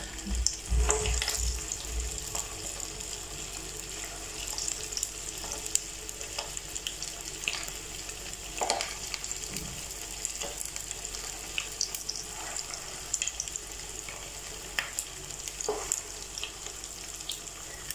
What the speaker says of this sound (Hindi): ऑयल गर्म हो चुका है तो अब हम इन्हें फ्राई करते हैं।